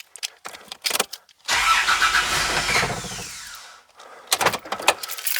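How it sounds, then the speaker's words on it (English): Starter cranking a Toyota Land Cruiser 70/80/105 series with the 1FZ-FE engine and its fuel pump disconnected, a loud steady whirring turnover lasting about two seconds that never catches, between quieter clicks and handling noises. "we're just going to try and start the car, and it's either going to start and die very quickly or it's just going to keep turning over"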